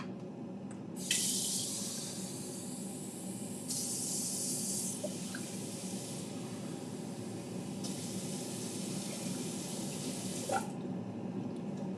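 Tap water gushes into a pan in a kitchen, a steady hissing stream that shifts in tone as the flow changes and the pan fills, with faint clinks and no talking.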